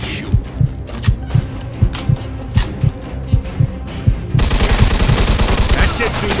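A video game shootout in Mafia II, with rapid rhythmic bursts of gunfire thumping in a steady series, then a denser, louder stretch of continuous fire near the end.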